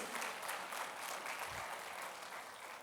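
A church congregation claps together during a sermon, a steady wash of applause that holds from start to finish at moderate, fairly distant loudness, with no voices standing out.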